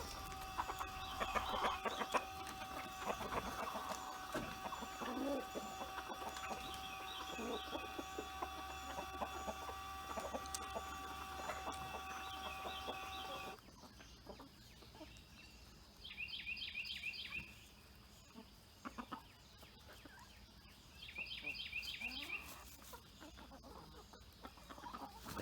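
Backyard chickens, including a small feisty Bantam rooster, cluck softly and intermittently as they hurry out of their run toward the yard and woods, with faint bird calls and quiet ambient noise around them.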